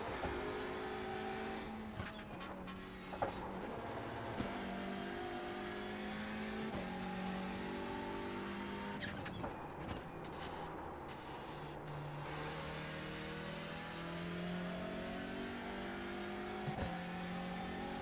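A Hyundai race car's engine in iRacing at Knockhill holds a continuous buzzing drone, rising and falling through gear changes and throttle lifts, with occasional brief tire squeals over a steady, fairly quiet level.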